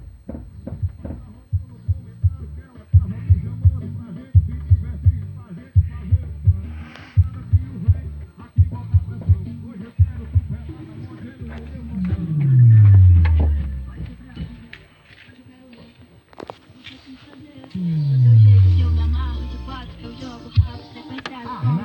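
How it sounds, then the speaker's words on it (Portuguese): A car sound system in a Chevrolet Celta, driven by an RC 755 amplifier, plays music at low volume with a steady thumping bass beat and two rising bass sweeps, without talk. "Agora eu vou ligar aqui pra vocês verem um pouquinho do som"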